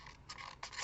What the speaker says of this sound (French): vous coupez les bords